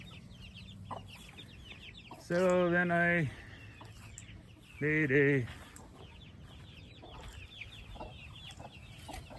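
Chickens in a backyard chicken run let out two loud, drawn-out squawking clucks, one after the other, close by, with someone talking briefly and wind noise underneath.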